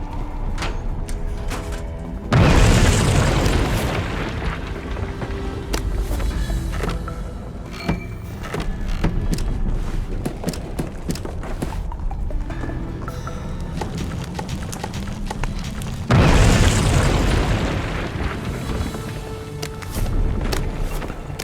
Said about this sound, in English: I think they're going to blow up the tower.